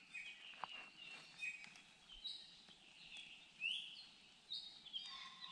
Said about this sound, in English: We can hear a few birds.